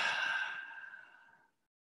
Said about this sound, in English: Slowly exhale through your mouth.